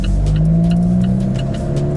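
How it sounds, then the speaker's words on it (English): An Alfa Romeo 4C, a lightweight carbon-fibre car with a remapped four-cylinder engine, accelerates hard and close by. The engine note rises steadily over two seconds with a strong, continuous growl and no talk. "It is only a 4-cylinder engine, but it's powerful"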